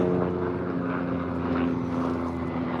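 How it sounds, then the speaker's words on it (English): A steady, droning engine roar with a low rhythmic thrum, like a helicopter passing overhead, loud and continuous. "I got a helicopter flying over me as I'm trying to talk"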